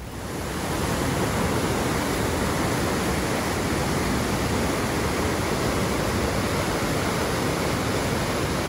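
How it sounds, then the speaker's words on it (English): Raging river water at Huka Falls in New Zealand, a steady, loud, broadband rush of churning water that holds constant throughout, close by with no voices. "I thought Huka Falls was gonna be a waterfall, but no, it's just like raging water."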